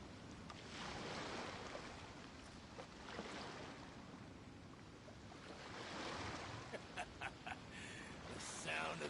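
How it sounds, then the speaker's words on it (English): Ocean waves in the Genshin Impact video game wash in a soft, continuous, windy surf that swells and fades, with a few faint ticking sounds near the end. "The sound of the ocean waves."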